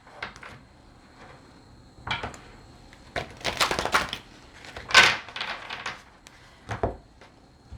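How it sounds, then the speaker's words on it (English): Shuffling a large oversized deck of cards, with irregular riffles, slaps and soft clattering bursts, close up and fairly quiet, no talking. "Some of these decks are so large, it's hard to shuffle."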